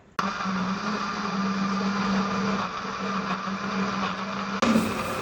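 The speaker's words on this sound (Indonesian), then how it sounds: "blender wortel yang sudah dipotong kecil-kecil dengan air secukupnya sampai halus" An electric blender starts abruptly and runs at a steady, loud whir, grinding small chopped carrot pieces with water, then briefly shifts pitch near the end.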